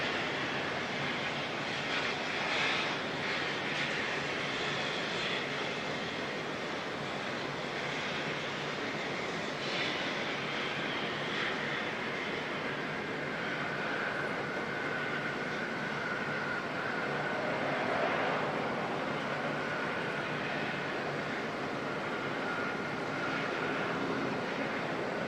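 Airliner departing Auckland Airport bound for Queenstown, a steady, sustained jet engine roar filling the whole stretch at a moderate distance, swelling slightly near the end with no talk over it.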